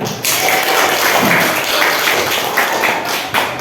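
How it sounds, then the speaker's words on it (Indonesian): Students in a classroom clap together in a loud, close burst that starts abruptly and keeps a brisk, slightly uneven rhythm before tapering at the end. "untuk semuanya boleh tepuk tangan untuk ketiga"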